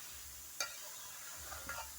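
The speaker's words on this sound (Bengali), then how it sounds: "মাংস রান্না হচ্ছে" Chicken curry meat cooking in a pan, a faint steady sizzle with a few soft scraping stirs and light ticks, quiet and without any talk.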